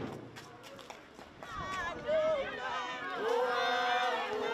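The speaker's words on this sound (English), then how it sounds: "As the small mob approaches." A small, intimidating crowd approaches on a street in South Africa, a dense murmur of voices and shouts swelling closer, with footsteps and raised cries rising over the rumble of the group.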